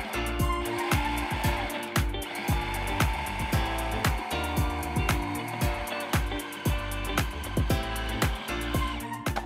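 A food processor blends a thick apricot fudge mixture, its motor whirring loudly and continuously with a rhythmic chopping, knocking pulse close by.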